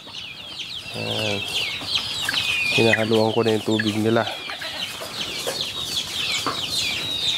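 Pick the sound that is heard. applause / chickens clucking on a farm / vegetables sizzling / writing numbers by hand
chickens clucking on a farm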